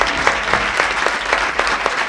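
An audience claps at the close of an architecture lecture at UNAM's Faculty of Architecture, a loud, steady wash of applause with regularly spaced sharp claps standing out, no voices.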